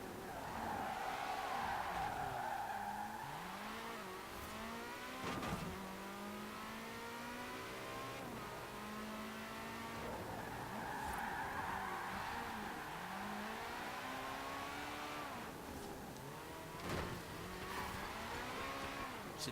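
A car drifting in Forza Horizon 4, engine revs rising and falling in repeated sweeps while long tire skids and squeals wail over them, with brief sharp impacts, loud and continuous.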